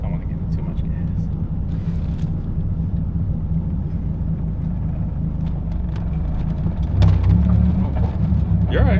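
A Dodge Viper with a manual transmission pulling away gently, its engine a loud continuous low rumble that swells toward the end, with voices talking over it.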